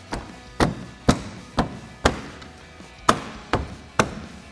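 Plastic lower trim piece on a 2014-2018 GMC Sierra 1500 pickup being pressed and popped into place, about nine sharp separate knocks and snaps at an uneven pace, close up with no talk.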